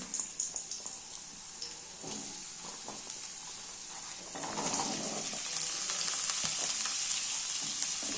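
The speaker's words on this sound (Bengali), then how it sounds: "ভালো করে আলুগুলোকে ফ্রাই করে দিতে হবে" Potatoes fry in oil in a pan for an aloo capsicum posto, a few light utensil taps at first, then a steady, close, fairly loud sizzle that swells midway and holds to the end, with no voices.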